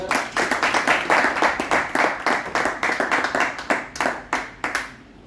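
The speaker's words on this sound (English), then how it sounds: "A big round of applause, please" A room full of people claps warmly for an arriving guest speaker, individual hand claps dense and close, holding steady before thinning out and stopping near the end.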